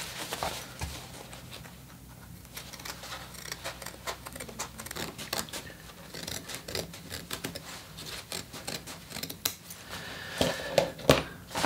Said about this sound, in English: now that I've cut the inseam, I'm also going to cut the side seams apart